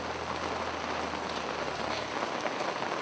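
Steady rain pours down throughout an outdoor funeral in Douala, Cameroon, a dense, even hiss of drops drumming on surfaces with no voices over it.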